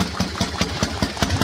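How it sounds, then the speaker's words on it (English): A Harley-Davidson Panhead engine with an SU carburetor idles with a loud, close, rhythmic lumpy beat, about five even thumps per second, with the slide's knocking in each pulse. "you can hear there, it's the slide in the carburetor smashing up and down on the SU"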